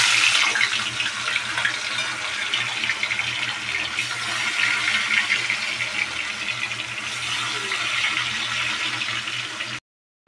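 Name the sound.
fish frying in hot mustard oil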